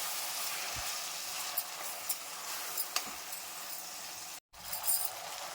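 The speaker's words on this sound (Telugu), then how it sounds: "టమాటా వేసుకున్నాక మంచిగా ఫ్రై చేసుకోవాలండి" Chopped tomatoes sizzling with fish pieces in a hot pan, a steady bright crackling hiss with occasional soft clinks of stirring, a brief cut near the end, and no talking.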